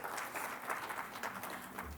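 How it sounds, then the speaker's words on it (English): Audience applause at a women's achievement summit in a Bengaluru hall, a steady wash of many hands clapping with no break, moderately loud and even throughout. "Can we hear a huge round of applause for ourselves and all the women out there who has achieved in some or the other way?"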